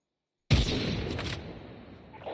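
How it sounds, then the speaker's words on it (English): In-game grenade explosion erupting suddenly from silence, a loud close boom that rolls and decays over about two seconds. "he threw a grenade at me, so he knows that we're here"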